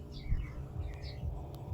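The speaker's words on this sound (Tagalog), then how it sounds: "Dumadapo na naman yung mga ibon doon sa bubong guys, naglalaro." Small birds chirp faintly on a house roof in a few thin, brief calls over a low background rumble, with no voices.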